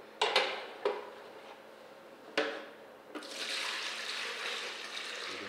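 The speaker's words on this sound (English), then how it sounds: "we've got a container here that we're going to pour this off into" Vanilla ice cream base being poured into a kitchen container, a few soft clunks and knocks followed by a steady liquid pour that runs to the end, fairly quiet.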